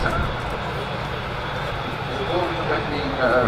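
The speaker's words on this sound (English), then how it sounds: "the aircraft taxis back" A large airliner taxis at Manchester Airport, its steady jet engine whine and broadband roar sustained and fairly close throughout, with a voice talking over it.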